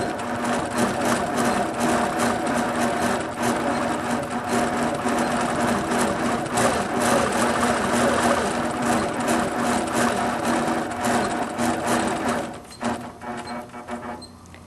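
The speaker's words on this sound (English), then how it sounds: "the machine stops when I stop and then begins again when I start moving" Quilting sewing machine with the stitch regulator engaged, stitching tiny background quilting in a steady continuous whir and rapid needle patter, loud and close, easing off near the end as the machine slows.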